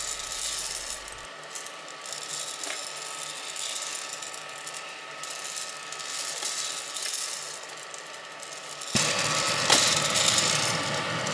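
Gene Cafe home coffee roaster turning beans in its rotating chamber, giving a steady mechanical rattle and whir with light clicking. The sound holds evenly throughout and grows louder and brighter near the end.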